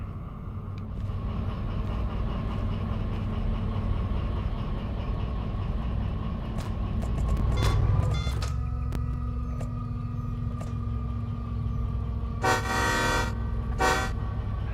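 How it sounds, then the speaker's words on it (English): A vehicle horn in the DV Sim driving game toots in short bursts near the end, one sustained tone followed by a brief second blast, over a steady engine and road drone. "Hey, that horn's a lot better."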